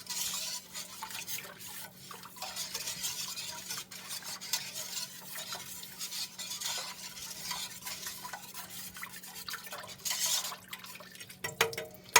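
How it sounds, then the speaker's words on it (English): A whisk beating milk into a pot of gnocchi soup with quick, continuous rhythmic swishing and light metal scraping against the pot, fairly quiet and close, with no voices. "I'm going to go ahead and whisk it in."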